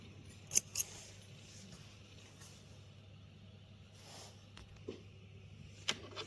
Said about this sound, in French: On coupe notre fil.